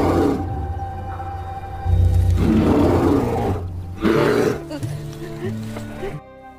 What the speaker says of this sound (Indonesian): Namun tiba-tiba saja Autumn pun mendengar suara beruang.